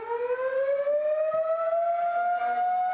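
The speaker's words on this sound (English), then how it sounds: "Some people get annoyed by that siren." A loud wailing fire siren rises slowly in pitch and holds its steady tone, close and prominent, with nothing else heard over it.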